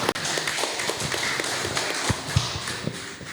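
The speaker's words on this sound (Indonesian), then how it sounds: "kita dengarkan dan kita berikan tepuk tangan untuk Mas Rohimin Dauri." Scattered handclaps from an audience welcome Rokhmin Dahuri to the stage at an Indonesian Independence Day food-security talk, a thin, uneven patter of claps with a few sharper, louder ones standing out.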